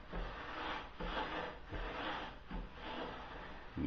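A long wooden piece slides through a switched-off table saw, giving repeated rubbing, scraping passes in a steady rhythm of about four strokes, close and moderately quiet with no voices.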